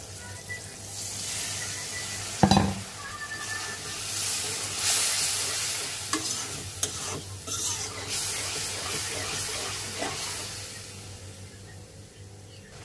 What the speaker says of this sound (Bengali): সেটা ভালো করে ভেজে অল্প একটু পানি দিয়ে দিব।